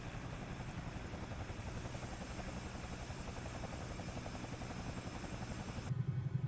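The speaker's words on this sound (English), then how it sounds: "Now that I'm lined up on the runway, I'll go ahead and lower the landing gear." A Bell 222B helicopter in Microsoft Flight Simulator holds a steady, close rotor chop and turbine whine throughout as the landing gear is lowered, with a brief change in tone just before the end.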